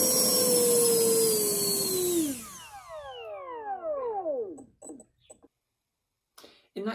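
A brushless motor driven by an ESC whines at a high steady pitch, then spins down with falling tones and stops, followed by a few brief faint clicks and a short burst near the end.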